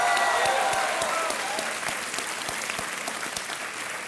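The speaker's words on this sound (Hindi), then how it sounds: "एक बार फिर तालियां बज जाएं जॉन इब्राहिम के लिए।" Studio audience on a TV quiz show applauding a celebrity guest, a loud burst of clapping with sharp individual claps that eases slightly while continuing.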